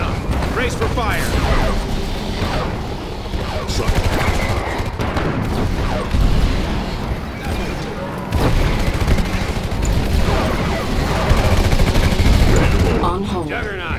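Juggernaut artillery fire in the video game Command & Conquer 3: Kane's Wrath, heard as steady rumbling barrages of booms and gunfire that continue for the whole stretch, with game voice lines over the battle noise.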